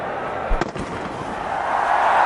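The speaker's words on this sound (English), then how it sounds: "Got fireworks in the background." Fireworks go off at a cricket stadium during a one-day international, one sharp burst followed by a few crackling pops, heard over the broad hiss of the crowd and ground noise.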